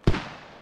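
Single sharp explosion in the military shooter Squad, a sudden loud boom with a deep punchy low end that decays into a fading rumble over under a second.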